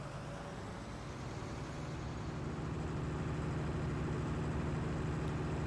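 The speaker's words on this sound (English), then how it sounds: "Now you can hear the tractors." A continuous low engine drone, steady and fairly loud, from tractors in Farming Simulator 19, like heavy machinery idling and chugging without pause.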